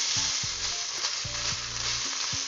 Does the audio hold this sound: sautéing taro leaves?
yes